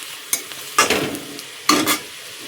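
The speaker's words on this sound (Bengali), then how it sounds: "পেঁয়াজ কুচি আর মরিচ কুচি আমি তেলের লগে ভাজছি ভালো মতো" Chopped onion and chili stirred in hot oil in a pan, two or three sharp scraping sizzle bursts from a spatula over a low steady fry, close and distinct.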